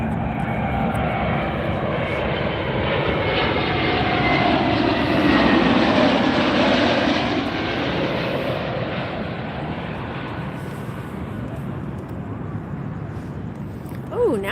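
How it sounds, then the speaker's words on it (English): Delta Airbus A321neo jet at Las Vegas airport, a loud engine roar that builds to a peak near the middle and then slowly fades, with a voice talking over it. "Here's our Delta 321 Neo."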